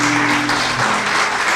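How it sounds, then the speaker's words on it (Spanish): A church congregation breaks into loud, sustained applause during a worship service, a dense wash of clapping with no pauses and no talk above it. "dale un fuerte aplauso a Dios"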